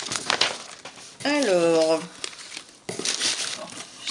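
Crinkling and rustling of paper as a parcel wrapped in pink paper is opened, nail polishes inside, in close bursts at the start and end while someone talks in the middle.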